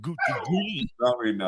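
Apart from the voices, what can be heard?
dog whimpering and crying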